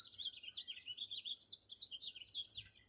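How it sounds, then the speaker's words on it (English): Birds chirp and sing continuously in the background, a steady stream of high twittering calls at moderate distance with no other sounds. "As I hear the birds singing behind me,"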